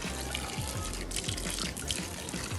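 Water runs from a garden pipe in a steady splashing trickle, close by and continuous.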